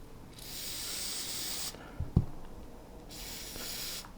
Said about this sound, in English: We're just gonna get our ballistol and we're gonna douse this baby.